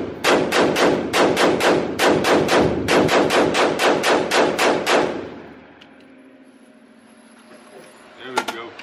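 Gunfire in an indoor shooting range: about fifteen loud, evenly spaced shots in quick succession over five seconds, each with a booming echo, then the room falls quiet except for faint clicks and handling.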